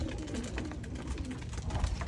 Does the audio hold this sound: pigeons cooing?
yes